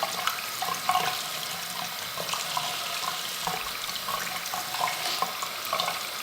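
Tap water runs steadily into a sink while makeup brushes are rinsed, a continuous splashing hiss with small irregular spatters, close and without talk.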